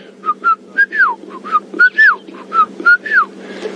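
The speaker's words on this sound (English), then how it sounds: "There's a bird calling." A Shelley's francolin calls repeatedly from the distance on a morning bush safari drive, a rhythmic series of whistled, rising-and-falling notes over a steady low engine hum.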